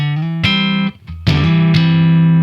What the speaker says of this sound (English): let's just do the deluxe reverb vibrato channel.